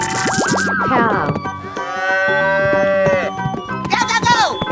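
A cartoonish cow moos in a 3D animal slide video game, with bouncy synthetic game music and sliding tones around the long, drawn-out moos.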